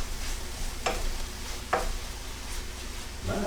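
A fish fillet omelette mixture is stirred in a sizzling pan, a steady hiss of frying broken by a few soft scraping strokes of the utensil, close up.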